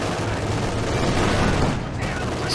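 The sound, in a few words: sniper rifle gunshots in Company of Heroes 2 video game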